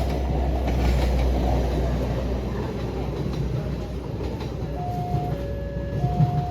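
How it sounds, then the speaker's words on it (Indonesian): The Logawa train, hauled by a white-and-blue CC203 locomotive, departs Lempuyangan with a loud, rolling rumble of wagons and a few sustained tones near the end, while a voice speaks faintly underneath. "Kereta api Logawa berangkat dari Lempuyangan dengan lokomotif CC203 livery White and Blue."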